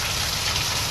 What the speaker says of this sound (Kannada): ಬಟ್ ಮಳೆ ಅವಾಗ ಜೋರಾಗಿ ಇರಲಿಲ್ಲ, ಜೋರ ಆಯ್ತು.